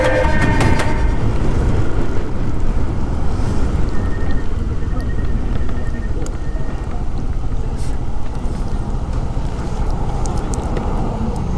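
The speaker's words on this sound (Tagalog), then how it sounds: "Putik na hangin, lakas na hangin." Strong wind roars steadily over motorcycle riders on a Honda PCX 160 scooter along the Marilaque twisties at night, a loud continuous broadband buffeting with no breaks.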